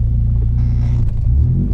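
A Peugeot 106 engine rumbles at steady idle close by, its deep throaty drone resembling a Honda Civic, with a slight rise in revs partway through and no talking.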